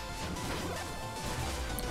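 A boss in Shovel Knight slams down in a heavy smashing attack, a dense crashing impact with rumbling game noise filling the short stretch at steady loudness.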